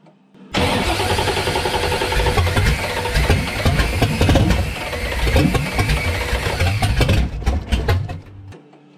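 A 1965 Ford Mustang engine cranks and catches, then runs roughly at a loud, uneven idle with surging and sputtering for several seconds before cutting out near the end.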